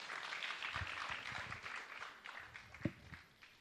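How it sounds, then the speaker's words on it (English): Applause from a crowd at a public finance bill forum at Swahili Pot, Mombasa: steady clapping that fills the space for a few seconds, with a single sharper thump near the end. "A round of applause to him once again."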